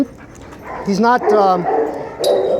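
An insecure dog gives short barks and yips that slide into a high whimpering whine, close and fairly loud, with a few broken breathy sounds around them.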